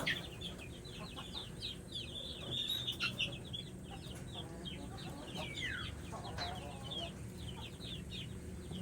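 Young chicks being fed in a rural province setting, a busy flurry of high peeping and cheeping with some clucking from nearby hens and faint rustling.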